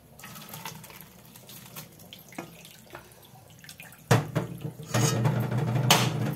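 Cold water poured onto boiled banana flower in a pot, starting as a light trickle with small clinks, then turning into a louder, steady gushing pour near the end.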